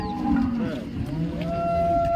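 A cow at a rural cattle market lets out a single low moo near the start, then fades into a steady hum of market background noise.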